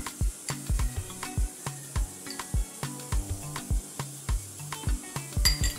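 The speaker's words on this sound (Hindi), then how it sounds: "ऑयल को अच्छे से आटे में मिला लीजिए और सूजी में।" Hands knead oil into a flour and semolina dough, giving soft repeated slaps and thuds in an uneven rhythm, close and fairly quiet.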